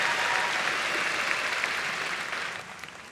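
A graduation ceremony audience for a class of 2018 breaks into dense, steady applause that fills the hall, holding strong throughout and easing off only slightly at the end.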